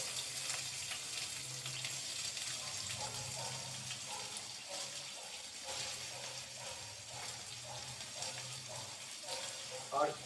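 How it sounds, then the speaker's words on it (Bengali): Onions go into hot oil in a wok and fry with a soft, steady sizzle, quiet and close, with a low background hum and occasional faint clinks. "তেল গরম হয়ে গিয়েছে, আমি আস্তে আস্তে করে পেঁয়াজগুলো দিয়ে দিচ্ছি।"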